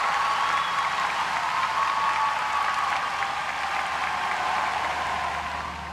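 A delighted home crowd applauds at the SEA Games diving in Singapore, steady dense clapping and cheering from a large arena audience holding for several seconds before easing off at the end.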